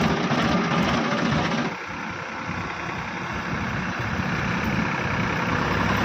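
A tractor engine idles nearby with a steady, loud, even rumble that dips slightly after the first couple of seconds and then holds level, with no voices over it.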